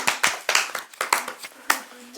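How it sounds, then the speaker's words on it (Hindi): A group of children claps for a child, the claps uneven and scattered, coming in about a dozen sharp close slaps with short gaps between them. "परवीन के लिए एक बार तालियां बजाई जाए।"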